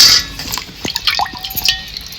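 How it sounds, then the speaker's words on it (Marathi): Water drips and splashes in a kitchen as washed bell peppers are rinsed and drained, with scattered small droplets and a brief trickle, close and moderately loud without talking. "मिरच्या अशा आपल्याला धुवून आणि नितळून घ्यायच्यात"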